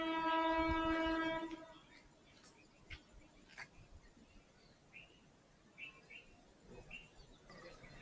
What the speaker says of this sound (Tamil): ட்ரெயின் சத்தம் இருக்கு.